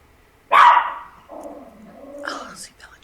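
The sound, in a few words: dog barking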